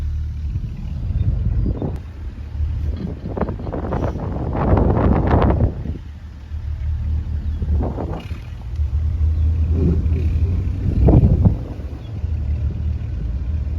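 A tractor engine labours in a field while trying to pull a stuck school bus free, with rumbling surges that swell and fade under gusty wind noise and no talking.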